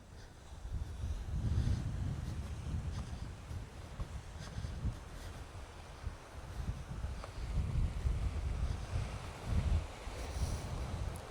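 Wind buffets steadily along the Pembrokeshire coast near West Blockhouse, with the low rumble of sea waves breaking below the cliffs and swelling and fading throughout.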